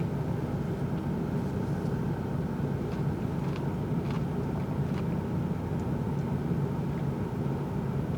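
Steady low rumble of cars in traffic heard from inside a vehicle, a continuous broadband engine and road drone with a few faint passing swishes, no talking.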